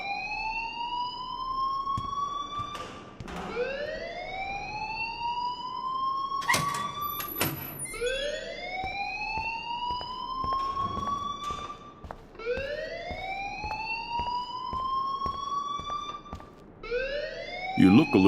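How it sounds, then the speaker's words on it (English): A school alarm in the video game Life is Strange wails in long rising sweeps, one after another, loud and insistent, with brief clatters between the cycles. "please turn off that alarm since that's your job"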